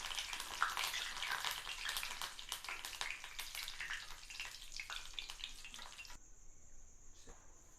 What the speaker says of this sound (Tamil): இப்போ கருவேப்பிலை தாளிச்சிக்கலாம்.